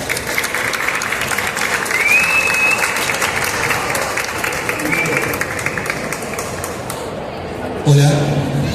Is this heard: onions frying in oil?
no